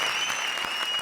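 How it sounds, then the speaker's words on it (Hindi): A quick burst of lively studio audience applause on a comedy show, dense clapping lasting about a second, with a thin electronic tone running steadily beneath it. "जोरदार तालियां"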